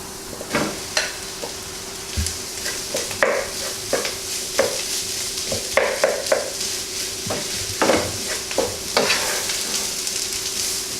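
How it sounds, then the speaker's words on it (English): A wooden spoon mashes and stirs roughly crushed potatoes into cooked spices for a vegetable samosa filling. The strokes make a series of soft knocks and scrapes against the pan over a low background sizzle, close and fairly steady. "with the wooden spoon, you can also continue to mash them up"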